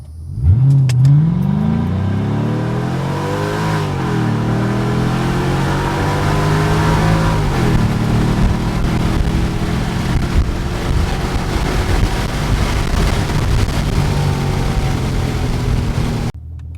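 A Mercedes CLK55 accelerates hard from a standstill, its engine note climbing steadily through the gears with brief dips at each shift, loud and close throughout the full-throttle run.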